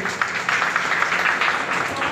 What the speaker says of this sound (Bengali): হাততালি দেবেন।